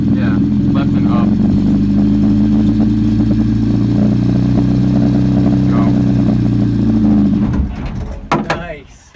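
A 1964 Volvo Amazon 122 Estate barn find idles with a steady low engine drone, then the engine note drops away near the end as the car pulls off, with people talking over it.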